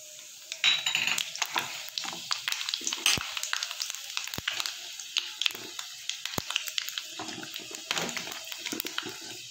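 Panch phoron whole spices sizzle and crackle in hot mustard oil in a kadai, a steady close frying hiss with sharp pops and scraping stirs throughout, no talk.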